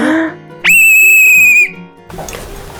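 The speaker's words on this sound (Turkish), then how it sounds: "düdük çok işimize yarayacak" A single loud, shrill whistle blast held for about a second, preceded by a short breathy sound and followed by rustling noise.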